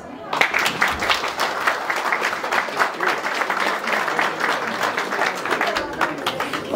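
Wedding guests at Restoran Napoleon in Stupari applaud during the ceremony, a lively stretch of clapping from a room full of people with voices mixed in.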